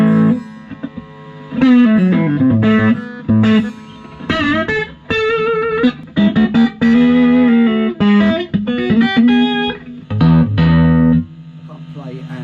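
An electric guitar played through a Fender Custom 64 Vibroverb amp with a mod and the reverb off rings out in loud, close, continuous phrases of sustained notes, bends and short pauses.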